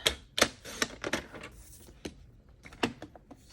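Scissors cut a sheet of green paper in half for a paper craft kit, giving a quick series of soft, close crisp snips and rustles that are quiet and unaccompanied by any voice.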